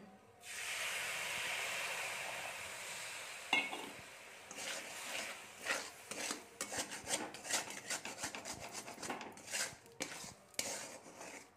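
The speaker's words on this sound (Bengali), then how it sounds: "এবার আমরা এর মধ্যে দিয়ে দেবো সামান্য পরিমাণে জল।" A little water hits a hot pan of filling with a burst of hissing sizzle, then fades into repeated scraping and clinking as a utensil stirs the mixture against the pan, close and without voices.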